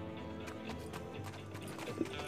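Horse hooves in the Six Guns video game, soft rhythmic clip-clop beats at a steady trot, faint and slightly distant.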